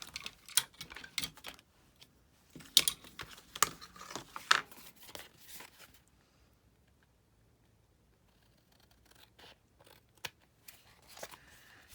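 Scissors trim a piece of paper or card in a quick run of close snips, followed by a quiet pause and a few more scattered cuts near the end.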